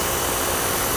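An EGO battery-powered tool runs on its low setting, giving a steady, loud whir that holds even through the short moment with no rises or breaks.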